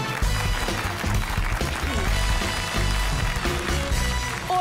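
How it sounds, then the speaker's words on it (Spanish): Studio audience applause at the opening of a comedy sitcom taping, a steady loud wash of clapping with music playing underneath. "¡Aplausos!"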